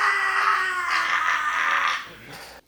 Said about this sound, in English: I'm gonna scream into it